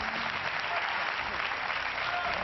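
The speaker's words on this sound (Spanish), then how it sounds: "¡Aplauso para Itziber, de la Sacana!" A studio audience in a Spanish-language reality show claps steadily in a short, dense burst of applause that stays even in level throughout.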